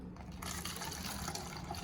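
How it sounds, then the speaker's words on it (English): Water mixed with a little soap, poured through a funnel into a bottle: a short, quiet, continuous gurgle and splash of liquid filling the container. "So I'm gonna set up my funnel. I'm gonna pour it in."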